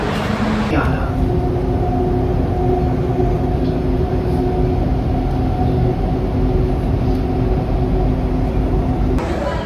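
A Dubai Metro train rumbles steadily along with a constant electric whine and hum, loud and continuous from inside the carriage.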